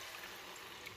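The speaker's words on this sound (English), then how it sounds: "we're gonna add some water" Water pouring steadily into a pot of broccoli soup with green peas, a soft continuous splashing fill lasting about a second, close and fairly quiet with no talk.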